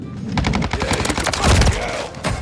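Rapid automatic fire from a BAS-B or Cronen Squall rifle in Modern Warfare 3: a dense, close, crackling string of shots with heavy low thumps that runs almost unbroken.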